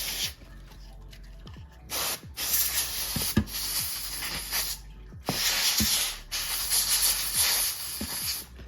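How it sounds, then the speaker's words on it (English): Compressed air sprayed in short, loud hissing bursts to clean dust from a MacBook Pro's fan area and ports, with several separate blasts of a few seconds each and brief pauses between them. "We can clean it out with just a little bit of compressed air."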